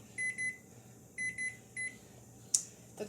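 Oven timer beeping in a home kitchen while muffins bake, heard as two short electronic beep pairs followed by a single beep, clear and close over a low appliance hum, with a couple of sharp clatters near the end.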